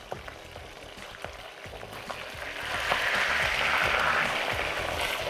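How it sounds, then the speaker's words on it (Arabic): Chicken fries in a pan with a steady hiss, and faint clinks and scrapes sound near the start before the sizzle swells louder and fuller partway through. "وبعدين بس هستنى الفراخ لما تتحمر"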